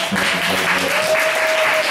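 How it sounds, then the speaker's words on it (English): An audience at a poets' cafe gathering applauds, steady clapping throughout with a brief tone sounding over it. "Everybody give Curtis a round of applause."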